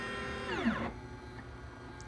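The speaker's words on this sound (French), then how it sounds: "l'imprimante va commencer le mouvement et va commencer à imprimer." A 3D printer begins moving to print a small square spacer, its stepper motors sweeping in a rising then falling whine before settling into a quieter, steady mechanical hum.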